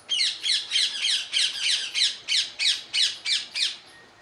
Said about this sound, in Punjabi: ਸਵੇਰ ਸਵੇਰ ਚਿੜੀਆਂ ਦੀ ਚੀਕ ਚਹਾਟ ਦੇ ਨਾਲ